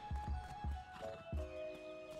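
A video game horse's hooves clop several times in quick irregular steps, mixed with a short whinny, fairly quiet with tonal electronic background.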